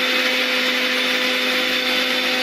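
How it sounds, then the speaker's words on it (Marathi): A mixer grinder jar blends tomatoes into a fine puree, giving a loud, steady motor whir with a constant pitch that runs alone and unbroken. "टोमॅटोची अशी बारीक प्युरी तयार करून घेणार आहोत। हा मिक्सर जार मी मेशोवरून मागवला आहे"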